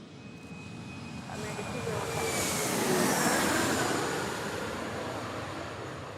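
A fixed-wing airliner passes close while landing at Reagan National Airport, its jet roar swelling to a peak midway and easing off with a descending whine, as a voice talks faintly in the background.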